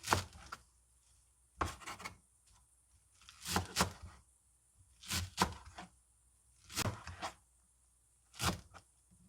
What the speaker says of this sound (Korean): 부추는 한 100g 정도 넣을 건데요. 요건 한 3cm 정도 예, 되게 썰어주세요.